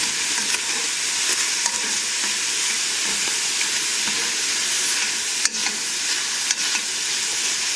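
Chicken pieces for white bean chicken chili brown and sizzle in a pot, a steady broad frying hiss throughout with occasional soft stirring clinks, close and fairly loud, no talking.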